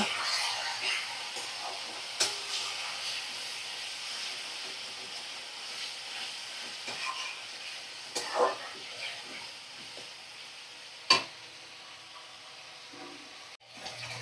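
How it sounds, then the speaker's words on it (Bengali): Chicken pieces fry in a pan with a soft, steady sizzle, fairly quiet and close, broken by a few sharp clatters of utensils. "দেখো চিকেনের টুকরোগুলো দিয়ে দিলাম। এবার ভালো করে কষিয়ে নেব।"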